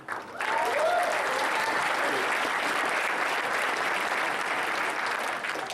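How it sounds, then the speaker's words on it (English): An audience at a hackathon opening ceremony bursts into applause for a helper, rising quickly to a loud, dense, sustained clapping that holds steady for several seconds. "let's give a round of applause for Dylan"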